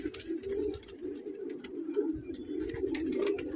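A loft of pigeons keeps up a continuous low cooing, several birds layered together near at hand, broken by light clicks and rustles, with no voices.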